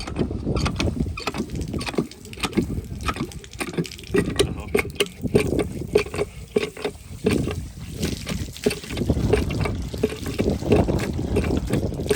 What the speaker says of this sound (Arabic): تعالوا بقى نملى الجيركن من اول وجديد. شايفين بقى الطرمبة اهو.